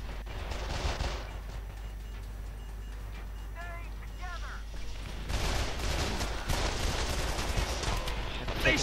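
Gunfire in the multiplayer video game Call of Juarez: The Cartel comes in bursts of shots, denser toward the end, mixed with game effects and voices.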